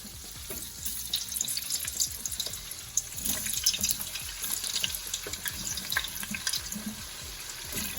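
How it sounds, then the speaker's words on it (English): Home fries frying in hot oil beside catfish, a dense continuous bubbling crackle with fizzing spits, fairly close and steady throughout. "Now we're gonna get our fries in."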